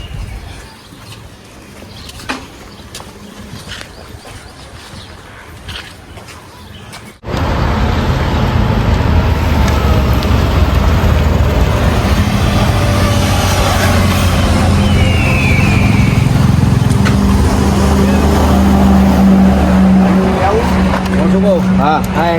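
A Honda Activa scooter is being ridden. After a quiet opening with faint voices, a loud, steady engine and wind roar starts abruptly and continues to the end.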